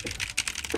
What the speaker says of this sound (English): I love how you can hear Shmoo fucking typing and shit as she's looking it up.